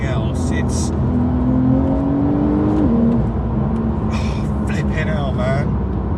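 A Porsche 992 Carrera S, the new 911, accelerates hard with a loud, close engine note that climbs, drops sharply at a gear change, then pulls again steadily. A voice talks over it.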